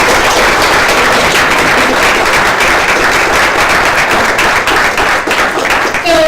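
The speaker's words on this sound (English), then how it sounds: "they are owed a hearty round of applause" Audience applause closes an evening event where entrepreneurs from Johns Hopkins shared their stories. The clapping is loud, dense and steady, filling the whole stretch without a break.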